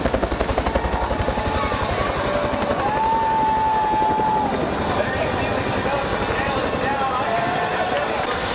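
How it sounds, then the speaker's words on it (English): A helicopter carrying a race car in at Texas Motor Speedway: steady rotor chop and turbine whine fill the whole stretch, loud and continuous, with a rising whistle-like tone midway. "This helicopter delivering a race car with style at the Texas Motor Speedway."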